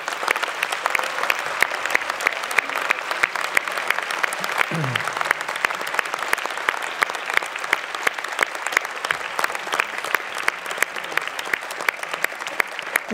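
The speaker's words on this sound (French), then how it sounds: "là vous pouvez les applaudir tous" Steady applause from an audience at a municipal New Year's greetings ceremony, honouring the town councillors; continuous dense clapping at an even level throughout.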